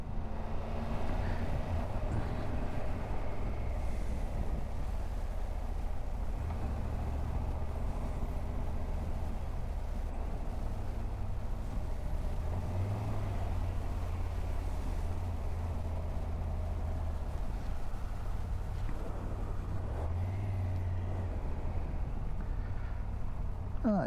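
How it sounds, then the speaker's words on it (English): Road traffic passing a moving motorcyclist, a steady low rumble of vehicles and wind noise running continuously and fairly loud, with no speech. "bit of traffic out here"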